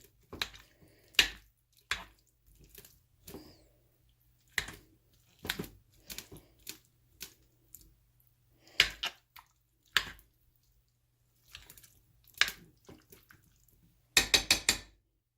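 A big spoon breaks up sausage in a pan, giving a string of soft, scattered clicks and wet taps with quiet gaps between them, then a quick cluster of scraping knocks at the end.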